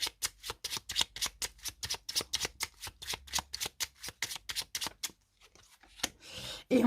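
Playing cards riffled and snapped in a long, quick, rhythmic series of crisp flicks close by, then a short pause and a soft slide as a card is laid down, with no voices.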